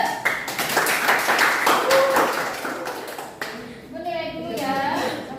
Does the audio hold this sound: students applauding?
yes